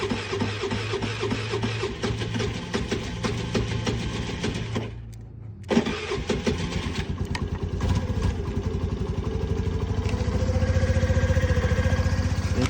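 A Honda Navi motorcycle engine cold-starting with the choke fully open: after a starter crank and a brief cutout, it catches and settles into a steady, loud, close idle that rises slightly toward the end.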